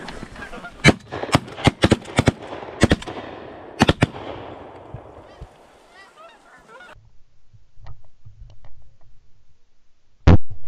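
Shotguns fired at geese in the field, about a dozen loud close blasts in quick clusters over the first few seconds, then quieter rustling, a lone shot near the end, and people talking.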